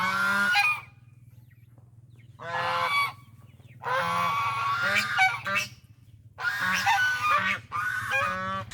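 Geese honk loudly and close in four separate bursts of harsh, nasal calls, each lasting about a second or more, with quiet gaps between.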